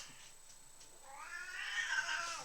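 An upset indoor cat lets out one drawn-out, rising angry yowl that swells and lingers for over a second, close by, after a quiet start.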